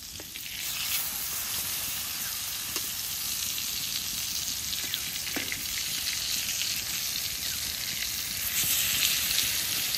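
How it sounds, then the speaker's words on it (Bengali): Eggplant fries in fish oil in a pan, a loud, continuous crackling sizzle that holds steady throughout with small occasional pops and no voices. "মাছের তেলে বেগুনটা ভাজলে কিন্তু খুব সুন্দর হয়।"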